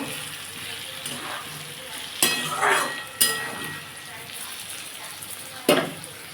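Potatoes and onions sizzle steadily in a hot pan, with a few sharp clatters of a spatula stirring against the metal, heard up close.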